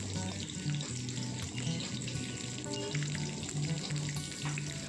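Four slit green chillies and black cumin fry in mustard oil, giving a steady, close, continuous sizzle with no voices.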